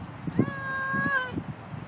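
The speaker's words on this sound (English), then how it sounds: "Why are you meowing so much?" A cat meows outdoors, one drawn-out rising and falling call over a second long, close and clear, with a person's soft speech and small movements around it.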